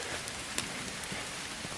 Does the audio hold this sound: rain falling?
yes